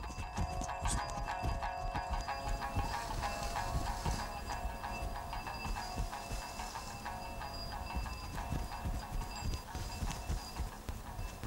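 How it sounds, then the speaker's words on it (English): Rhythmic clip-clop of horse hooves on hard ground, steady and continuous over a busy outdoor background. "Nima takes his horse to the racetrack in Jharkhand very often to train it."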